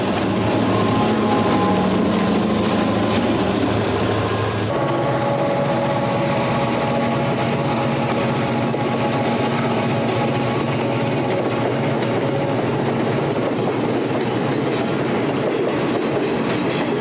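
An Erie Lackawanna freight train rolls past with F-unit diesel helpers shoving on the rear, a loud, continuous roar of engines and rumbling wagons with a faint clickety-clack, sustained throughout.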